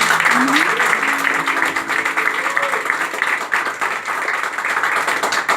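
Steady applause from a crowd fills the whole stretch, a dense wash of clapping with a faint sustained musical tone running underneath.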